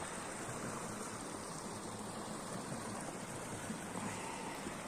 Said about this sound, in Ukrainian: Річечки, відводки, везде тече вода.